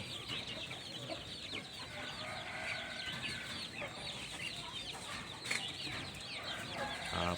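Many chicks cheep and fowl cluck together in a busy, continuous chorus while sunbathing in mild morning sun, moderately distant, with no talking.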